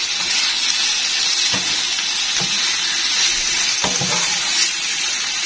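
Chicken tossed with crushed red chilli and salt sizzles steadily in a hot pan, a constant close hiss broken by a few soft scraping stirs, with no voices.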